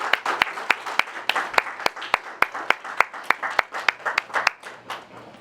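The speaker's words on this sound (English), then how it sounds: "let's bring her up with a warm round of applause" A small audience applauds a speaker walking up to a community gathering, with distinct separate claps in a quick, steady rhythm for several seconds, fairly close and moderately loud.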